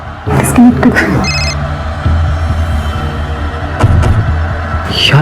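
Telephone ringing in an indoor drama scene, the call going unanswered: a tonal ring burst stands out near the start over a steady low hum, with speech-like activity around it.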